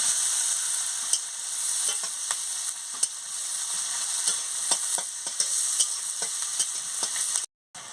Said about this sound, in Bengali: পেঁয়াজ কুচি কাঁচা লঙ্কাটাকে ভেজে নিচ্ছি।